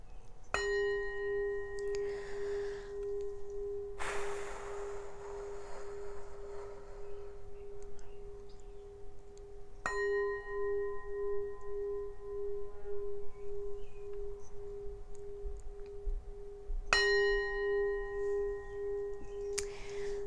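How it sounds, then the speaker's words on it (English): A bell is struck three times during a spiritual reading, each strike a clear bright ring that sustains and slowly fades, with a singing bowl's steady drone humming beneath throughout. "let me ring the bell again"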